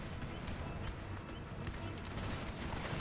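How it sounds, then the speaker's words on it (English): Grenadiers lob grenades on an Empire: Total War battlefield, a dense continuous wash of scattered pops and booming impacts layered with distant battle noise, fairly faint throughout. "Let's order the grenadiers to fire grenades."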